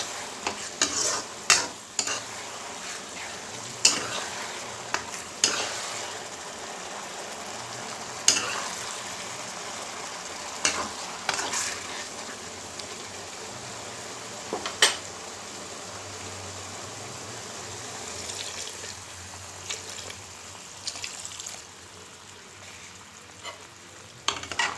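Chuka sorrel leaves and potatoes fry in a pan while a spoon stirs them, repeated scraping strokes over a constant close sizzle, no talking.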